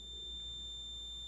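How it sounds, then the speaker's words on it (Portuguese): Steady electronic beep from a Brastemp washing machine circuit board under test on the bench, a single continuous high tone held for over a second with a low hum beneath. "Ele vai bipar, ó."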